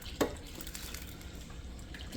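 Water is poured into a bowl while mixing sourdough dough with salt, a short faint splash at the start followed by quiet trickling and handling noise in a kitchen.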